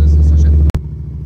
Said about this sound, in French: Et en démarrant la moto, ici, on va mettre une première.